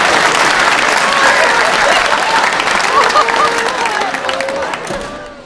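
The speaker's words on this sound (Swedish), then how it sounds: "Ja, det är värt en applåd." A studio audience at the Swedish TV show BingoLotto breaks into steady, full applause that holds loud for several seconds, then gradually thins and fades toward the end.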